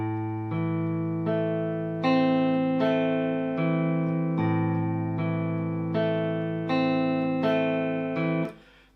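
Guitar plays the opening two bars of a song, a steady run of sustained, ringing notes in 6/8 with a regular plucked rhythm, close and clear, ending abruptly, with no talking.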